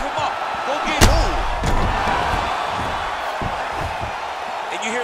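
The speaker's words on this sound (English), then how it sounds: "you hear the crowd react every time they come together because they understand the power that these guys are striking with" Arena crowd at a UFC fight between two fighters roaring and surging in reaction to landed strikes, with a sharp slam-like impact early and steady loud crowd noise under commentary talk throughout.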